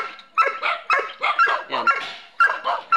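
Several dogs bark in rapid, overlapping yips and barks, a noisy pack close by, about eight sharp bursts in three seconds with no talking.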